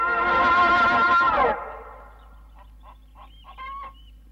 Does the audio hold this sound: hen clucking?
yes